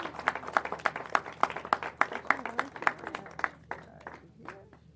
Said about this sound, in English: so let's give him a big round of applause and a big thank you.